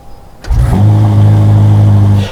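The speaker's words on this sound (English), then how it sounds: "Then that 4-litre twin turbocharged engine will jump up into life." A Ferrari SF90's 4-litre twin-turbocharged engine starts after a quiet moment, catching with a loud burst that settles straight into a strong, steady low rumble close by.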